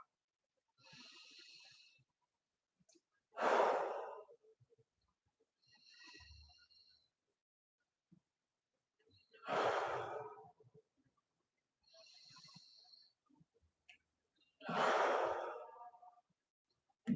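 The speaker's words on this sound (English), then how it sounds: "So breathe in and out." Slow, deep breaths in and out during stretching, close and quiet, alternating soft airy inhales with longer, fuller sighing exhales in an unhurried rhythm across several cycles, with silence between.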